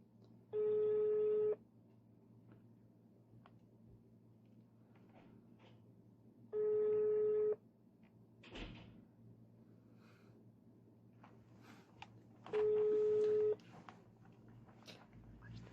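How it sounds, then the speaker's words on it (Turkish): Telephone ringback tone on a call line, three evenly spaced long beeps about six seconds apart, clear over a low steady hum, with faint background noise between rings. "çalıyor."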